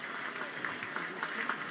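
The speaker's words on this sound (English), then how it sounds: "he'll get applause here" A baseball crowd at an Orioles–Red Sox game applauds a batter hit by a fastball on the elbow, giving a brief, steady burst of clapping and murmur from the stands under a commentator's voice.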